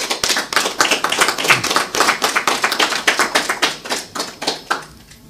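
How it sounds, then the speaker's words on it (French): A small audience at a book presentation claps, the individual hand claps clearly separate and rhythmic and fairly close, then stopping abruptly near the end. "je vous demande d'applaudir très fort"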